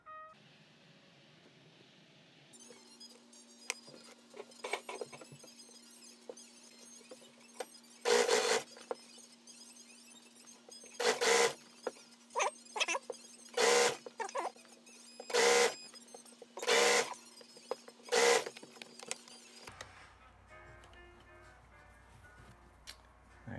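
Sewing machine stitching along the folded hem of a pair of pants, running in a series of short, loud, evenly spaced bursts over a steady low motor hum.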